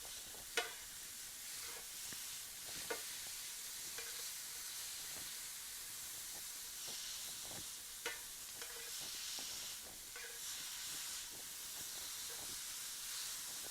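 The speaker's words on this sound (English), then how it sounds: "I'm going to stop and mix my zucchini noodles a little bit." Zucchini noodles stirred in a hot pan sizzle and hiss steadily, with a few sharp scrapes and clacks of the utensil against the pan at irregular moments; no one speaks.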